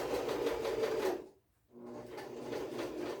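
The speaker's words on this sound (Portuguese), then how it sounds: "eu alinho aqui em cima e vou seguir com a minha costura até a margem de costura que eu tinha feito no começo" A sewing machine stitches the seam of tailored shorts up close, a rapid rhythmic whirring that stops for a short pause midway and then resumes at the same pace.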